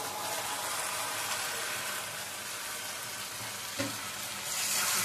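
Fried pointed gourd (potol) being stir-fried in masala in a pan for tel potol, giving a constant moderate sizzle with a brief clatter of the spatula near the end and no voices.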